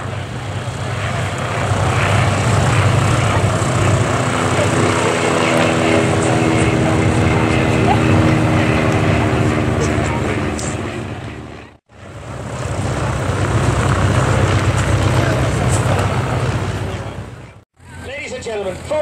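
Yak aircraft flying as a display duo at an air show, a loud sustained propeller-engine drone passing overhead, steady for long stretches with two brief sharp breaks, while a voice comments over it.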